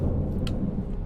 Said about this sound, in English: I think we need to wait for the storm to pass.